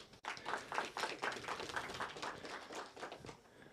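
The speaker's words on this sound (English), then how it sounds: "All right, big round of applause for Szymon" Small audience at a tech meetup clapping for a speaker, a modest patter of individual hand claps, fairly quiet and close, tapering off toward the end.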